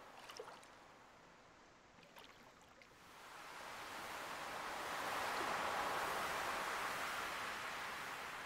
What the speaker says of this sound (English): It's very nice, ocean sounds. The ocean is very calming.